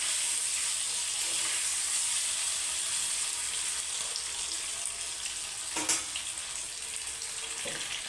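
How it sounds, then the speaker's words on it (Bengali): Paneer cubes fry in hot oil for dai paneer, giving a steady, close sizzle that runs throughout, with a brief clatter partway through. "দেখো এদিকে বান্নাটা বাড়তে বাড়তে আমার পনিরটা ভাজা হয়ে এসছে"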